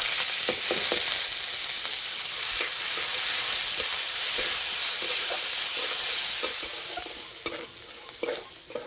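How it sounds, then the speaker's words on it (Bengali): Rice and chana dal frying in mustard oil with cumin seeds and bay leaves in a kadai, a steady close sizzle broken by repeated scraping clinks of a spatula stirring, with no talk over it. "এবার জল ঝরানো চাল আর ডাল দেব।"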